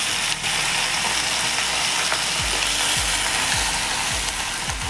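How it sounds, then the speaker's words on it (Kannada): Spinach and masala spices fry in a pan for palak pulao, a steady close sizzle with scraping stirring strokes and clicks running through it, no voices. "ಸೊಪ್ಪು ಸ್ವಲ್ಪ ಮೆತ್ತಗಾಗೋ ತನಕ ಫ್ರೈ ಮಾಡ್ಕೋಬೇಕು"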